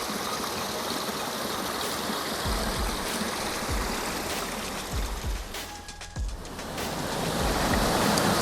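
Continuous rushing water, a broad steady wash of a flowing stream at a trail crossing in the Smoky Mountains, close by, with a few soft bumps and shifts partway through.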